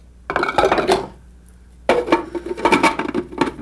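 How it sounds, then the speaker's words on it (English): Ground nuts tipped into a bowl in a kitchen: two bursts of gritty rattling and scraping against the bowl, separated by a short quiet pause, close and fairly loud. "Pop our nuts into the bowl, like so."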